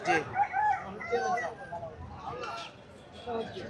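Native desi chickens at a market cluck and call in bursts, with people talking nearby throughout.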